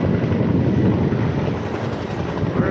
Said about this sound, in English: See, hear the helicopter?